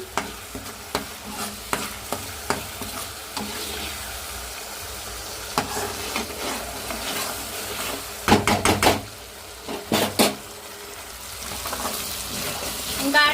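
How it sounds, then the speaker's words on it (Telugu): Tomato, coconut, ginger and shallot paste frying in a pan for a chicken liver and fenugreek curry, with a low sizzle under repeated sharp knocks and scrapes of a spoon stirring, close up, no one speaking. "ఇదంతా పచ్చివాసన పోయేంత వరకు అయితే బాగా వేయించుకోవాలి"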